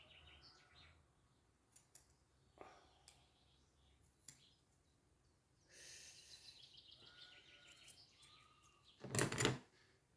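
Birds chirp outdoors in the countryside: scattered faint calls and short trills over quiet ambience, ending in a louder, busier burst of song.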